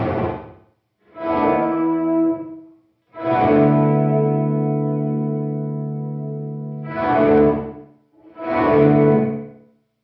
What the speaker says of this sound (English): we're just gonna listen to the reverb